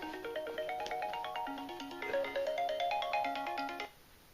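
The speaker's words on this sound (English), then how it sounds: "Some idiot forgot to silence his phone." A mobile phone ringtone goes off during a talk, a bright repeating melodic pattern playing steadily for about four seconds before cutting off, heard alone with no talk over it.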